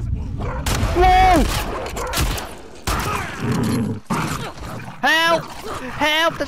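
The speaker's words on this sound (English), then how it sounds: "The dog's gonna eat me!" A dog in The Last of Us Part II barks and yips in several sharp bursts during tense gameplay, loud and close, mixed with game noises and a player's excited voice talking.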